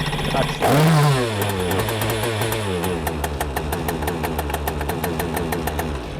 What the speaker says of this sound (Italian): Al secondo inserimento del magnete parte il motore